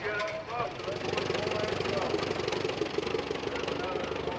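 A classic International Harvester tractor engine idling at a threshermen's reunion show, a steady low rumbling throb with a faint knock, heard nearby while people talk over it.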